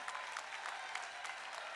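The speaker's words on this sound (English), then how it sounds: "Let's give them a round of applause." Applause from the crowd at a college commencement ceremony honoring faculty, a soft, somewhat distant patter of many hands with brief irregular peaks.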